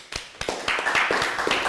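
Classroom round of applause in a Year 3 math lesson: a small group clapping, starting with a few sharp separate claps and quickly thickening into quicker overlapping clapping, close and moderately quiet.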